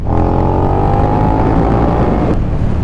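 A motorcycle engine revs hard and close, a loud continuous roar with a rising pitch sweep before a brief drop near the end.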